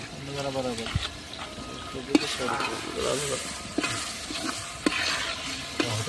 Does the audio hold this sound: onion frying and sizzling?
yes